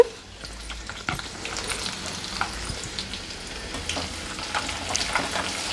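Steady oil frying and sizzling for a drumstick pickle tempering, with asafoetida added to the hot oil. The crackle is continuous and close, with small pops and bursts throughout and no talking.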